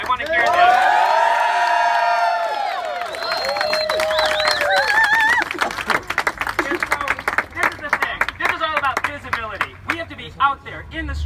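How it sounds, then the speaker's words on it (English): A rally crowd at an LGBTQ voting event in Chicago cheers, whoops and shouts loudly, then breaks into scattered clapping and applause that continues to the end. "can I get like a big, rousing crowd cheer?"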